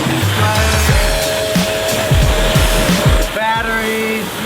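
A strong water spray hisses steadily while washing a dirty eBike, loud and close, with a person's voice and tonal hums mixed into the rushing noise.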